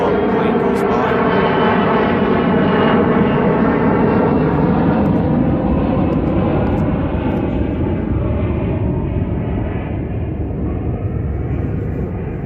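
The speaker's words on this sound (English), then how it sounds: "And sorry about the plane flying overhead." An airplane passes overhead near an airport, making a loud, sustained engine roar that fills the whole stretch and slowly eases off toward the end, with no talking.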